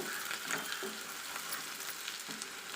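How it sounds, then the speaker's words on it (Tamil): Onions sauté in a pan with a faint, continuous frying sizzle and occasional soft stirring scrapes, quiet and steady throughout. "அந்த வெங்காயத்தையும் போட்டு நல்லா இதில் வதக்கிக்கலாம்"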